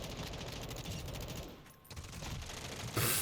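Decoy grenades in the Modern Warfare 2 multiplayer game imitate gunfire: continuous rapid bursts of shots, steady and fairly loud, with a short lull midway and a sharper burst near the end, no talking.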